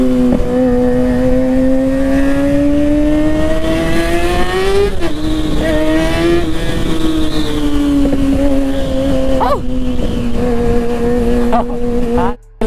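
Street bike engine running close and loud, a strong sustained tonal drone that rises and falls as the throttle is worked, with brief revs and shifts, ending in a sudden cut.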